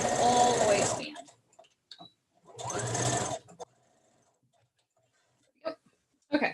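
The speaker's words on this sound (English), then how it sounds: "Go down a couple of stitches, go back a couple of stitches, secure that opening." A sewing machine stitches fabric for a Viking-style hood in two short, close bursts, running back and forth to secure an opening, with pauses and small clicks between.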